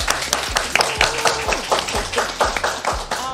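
Live studio audience claps in a steady rhythmic patter, moderately loud and close, with voices murmuring underneath the applause.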